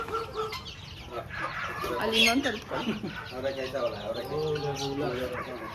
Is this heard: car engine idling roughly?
no